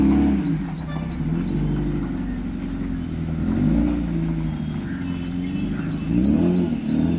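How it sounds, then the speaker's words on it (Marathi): The engine of an old, roughly forty-year-old Maruti Suzuki Gypsy runs close by with a steady, low, rumbling idle that swells gently a couple of times, and no one speaks. "मित्रांनो जिप्सी झालेली आहे चालू."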